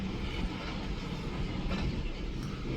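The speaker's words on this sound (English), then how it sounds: "I think these are empty propane tankers." A freight train of empty propane tank cars rolls past near Pembine, Wisconsin, giving a continuous, fairly close rushing rumble with faint rhythmic clatter and no pauses.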